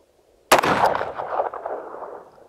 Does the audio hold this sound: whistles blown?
no